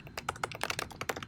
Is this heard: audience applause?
no